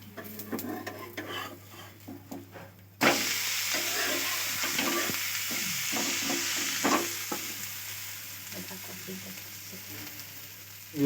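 Moong dal dosa sizzling steadily on a hot pan after being flipped, a sudden louder burst of frying that then holds as continuous hiss, with light clinks of a utensil against the pan.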